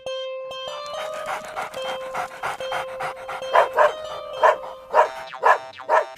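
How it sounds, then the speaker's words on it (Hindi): Animated dog on a farm, digging in the soil, panting in quick rhythmic bursts with a few short barks, close and clear over a steady sustained tone. "क्यों भौंक रहे हो?"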